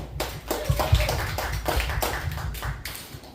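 A comedy-club audience claps in answer to a comedian's show-of-hands poll, a ragged burst of many hands slapping irregularly across the room at moderate loudness, with no talking over it.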